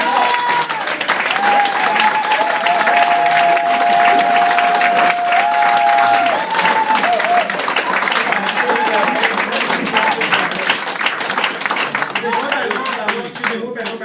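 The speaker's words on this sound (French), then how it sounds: "Je vous demande de l'applaudir bien fort." Cabaret audience applauding a comedian's entrance, dense sustained clapping with some cheering that stays loud for the full stretch, while a voice talks over it.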